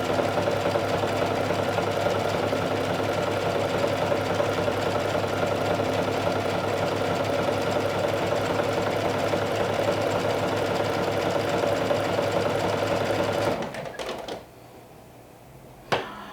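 Sewing machine stitching velvet for a dress, running in a steady fast whir for a long stretch before stopping abruptly, followed by a few faint clicks.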